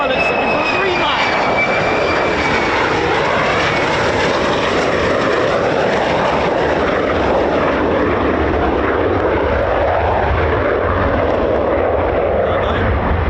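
An aircraft engine drones steadily over an RAF Lakenheath airfield during US Air Force F-15 and F-35 operations, a broad continuous roar under ongoing talk.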